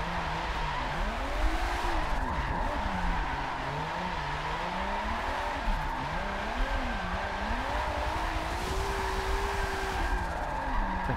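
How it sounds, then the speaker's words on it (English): A drift competition car's tires squeal loudly and continuously through a quick e-brake grab on a racing circuit, the pitch sliding up and down in long wavering arcs over a steady engine drone, with no speech. "Quick e-brake grab there."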